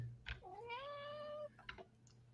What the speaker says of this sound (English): my cat is hungry